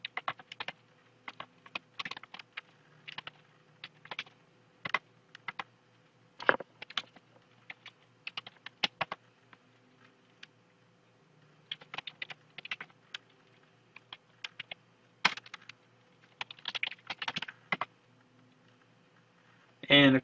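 Keys clatter on a computer keyboard while a setup form is filled in, coming in bursts of quick taps separated by short pauses, close and moderately quiet, with nobody speaking.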